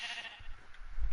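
A sheep bleats in Minecraft, a short nasal wavering cry near the start that fades, followed by faint low rumbling thumps toward the end.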